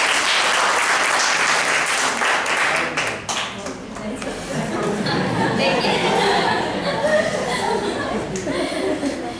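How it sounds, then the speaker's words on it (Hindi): A seminar audience on stress management breaks into loud, sustained applause, a dense wash of many hands clapping together, with a little chuckling and chatter mixed in and a slight dip partway through. "एक जोरदार तालियां बजाएं"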